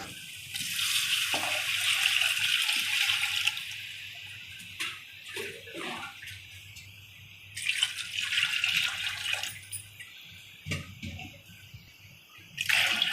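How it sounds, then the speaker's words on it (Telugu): Water, three litres for two kilograms of basmati rice, gushes into a cooking pot for mutton biryani in two main pouring bursts separated by quieter clatter and drips. A final short splash comes at the end. "ఇప్పుడు నేనైతే ఎసురు వేస్తున్నాను ఫ్రెండ్స్."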